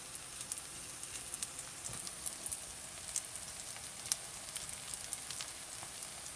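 Veggie fritters with maitake mushroom frying in a pan give a steady, moderate sizzle with scattered crackles and pops throughout, with no voices.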